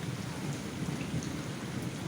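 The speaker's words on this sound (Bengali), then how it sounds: "দেখুন কীরকম বৃষ্টি, সাংঘাতিক বৃষ্টি" Heavy rain pours down steadily on a flooded street in Barasat Nabapalli, a dense continuous hiss with low rumbling that may be thunder, sustained and fairly loud throughout with no talking.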